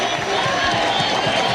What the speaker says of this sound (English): Now the crowd's starting to come to life.